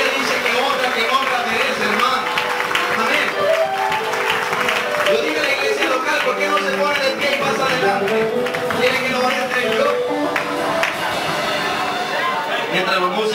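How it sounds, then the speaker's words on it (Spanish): Church congregation applauding and cheering to honor seven years of a brother's ministry, a steady, loud, sustained wash of clapping from a crowd with voices mixed in throughout. "Yo creo que Dios se merece un aplauso por estos 7 años"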